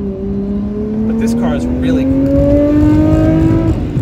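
A Nissan Skyline R34 GT-R, a USA-legal import, pulls hard as its engine note climbs steadily through the gear, heard from inside the car with a person talking over it.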